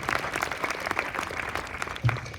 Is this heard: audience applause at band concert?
yes